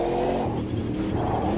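Heavy racing car in a three-lap challenge race in a racing video game, its engine droning steadily and loudly without a break, with no talk over it.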